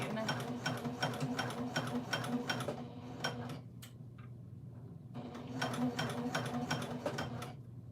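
Sewing machine stitching backpack netting, running in two long bursts of rapid mechanical clatter with a short pause between, close and steady.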